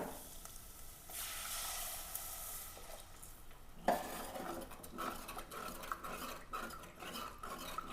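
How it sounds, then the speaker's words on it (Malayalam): Water is poured into fried chili masala in a hot pan, giving a sharp hiss at first. A clatter follows, then spoon scrapes and soft bubbling sizzle, close and moderately quiet. "മുളകൊക്കെ മൂത്തിട്ടുണ്ട് നമുക്ക് അല്പം വെള്ളം ഒഴിച്ചു കൊടുക്കാം"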